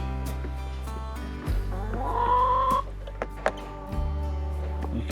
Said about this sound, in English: I have a broody hen in there who's not real happy with me